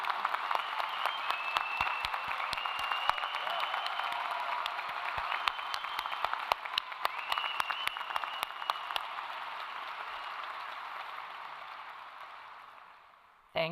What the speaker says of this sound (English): everyone else join me in thanking and applause.